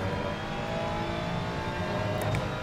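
Race car engine in the Assetto Corsa Competizione racing game, a steady dense roar held at high revs throughout, loud and continuous with no talking.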